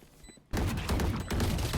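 Gunfire from the video game Valorant erupts after a brief quiet moment, a loud, dense burst of rapid shots that continues almost without pause, with a short dip before resuming.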